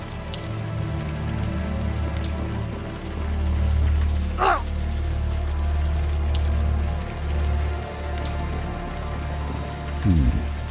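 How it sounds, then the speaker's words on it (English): Warm rain falling in the Unavowed adventure game, a steady low hiss and patter under a droning ambience, with one brief sharp sweep midway and a short low rumble near the end. "Now that it's out of the open air, the warm rain is coming down."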